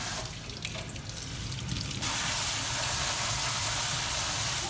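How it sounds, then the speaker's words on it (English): Tap water runs into a kitchen sink as brown rice is rinsed, a loud steady gushing hiss that grows brighter and fuller after about two seconds and continues to the end. "I'm gonna rinse it really well to get all the excess starch off of"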